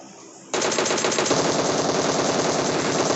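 Rapid automatic gunfire from PUBG Mobile, a loud continuous burst of shots starting half a second in after a quieter lead-in, with no speech over it.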